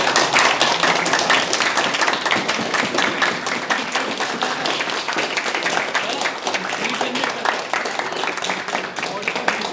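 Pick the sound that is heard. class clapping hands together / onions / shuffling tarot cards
class clapping hands together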